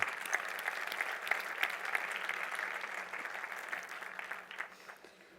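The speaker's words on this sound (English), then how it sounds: "Let's give the Magento community ourselves a giant round of applause" Conference audience applause at a Magento business event, a steady wash of many hands clapping at moderate distance that gradually thins and fades out over several seconds.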